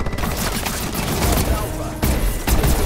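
Rapid, loud bursts of gunfire from a shotgun in Advanced Warfare dominate a short stretch, with sharp repeated blasts, a brief gap near the middle, then more shots resuming.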